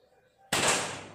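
A single loud, sharp crack from a Marauder air rifle fired at a 25-metre target during an accuracy test, preceded by quiet ambience and followed by a short decaying echo.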